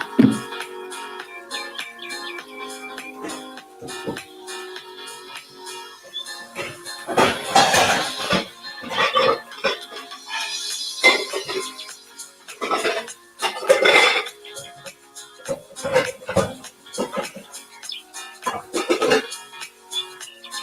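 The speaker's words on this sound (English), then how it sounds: "Let me get my wok out, y'all." A wok and other pans are pulled out and handled in a home kitchen, giving scattered clanks, rattles and metallic knocks at irregular intervals over faint background music.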